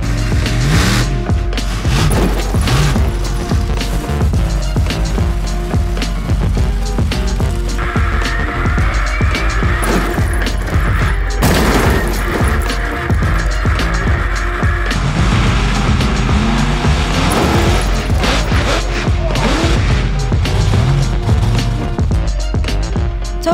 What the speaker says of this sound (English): So who's ready to crush some cars?